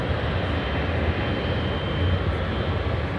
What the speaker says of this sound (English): Just a year-old 777 freighter.